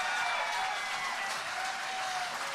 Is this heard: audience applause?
yes